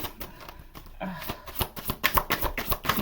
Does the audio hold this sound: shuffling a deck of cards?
yes